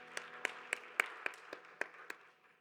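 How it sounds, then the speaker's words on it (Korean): A church youth congregation claps together for encouragement during a Sunday worship service, about nine sharp claps in a loose rhythm that soften and fade over a few seconds, heard fairly close in a quiet room. "서로를 격려하면서 박수하겠습니다"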